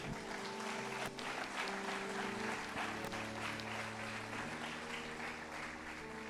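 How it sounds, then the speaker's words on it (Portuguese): A church congregation claps during a sermon, a continuous wash of applause over sustained low organ or keyboard tones, fairly quiet and even throughout. "Aplaude a Deus, aplaude."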